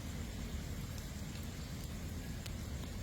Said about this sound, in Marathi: वरून रिपरीप पावसाची चालूच आहे पाऊस चालूच आहे